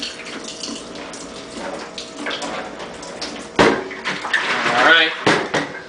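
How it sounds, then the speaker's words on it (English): Sanitizing water runs out through the spigot of a Mr. Beer fermenter, splashing and gushing with a rising, irregular flow that surges louder toward the end; people talk over it. "let's open the spigot. Make sure it runs through the spigot."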